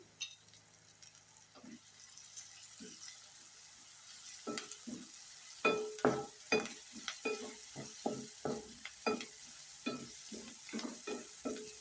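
Curry leaves and onions frying in a pan for a tender tamarind-leaf curry, heard as a faint, low sizzle with a series of distinct scraping strokes from stirring that grow more frequent over time.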